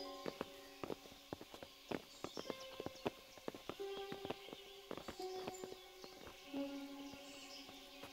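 Horse hooves clip-clop at a steady walking pace in the Kingdom Come: Deliverance video game, sharp close knocks repeating roughly every half second, with faint birdsong and tonal game sounds in the background.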